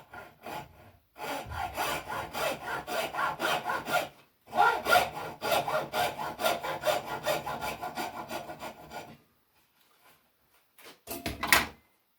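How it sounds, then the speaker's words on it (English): A hacksaw cuts a piece of wood clamped in a vise, rasping in quick back-and-forth strokes during two long bursts split by a short pause, then a few final strokes after a quiet gap. "I put the piece in a vise, and I use a hacksaw that I only use for cutting wood"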